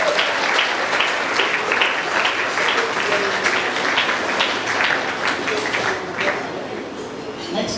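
A crowd at the Prerana Festival at ISKCON Vijayawada breaks into loud, sustained applause. The many hands clap densely and steadily for several seconds, with a few voices mixed in underneath.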